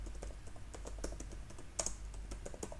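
Code is typed on a computer keyboard in quick, uneven clicks and taps, close and fairly quiet against a low background hum, with no voices.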